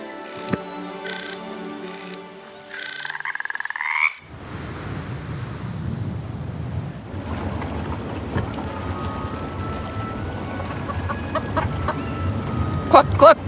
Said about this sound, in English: I tried to persuade the chicken to come outside